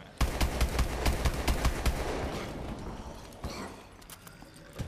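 Rapid gunfire in Call of Duty Exo Zombies as zombies are shot, loud close bursts of quick repeated shots, denser at first, then sparser single cracks.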